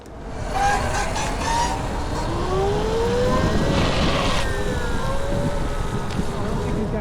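A LAND Moto Super District electric motorcycle is ridden past, its motor whine rising and falling in pitch over heavy wind rush and road noise.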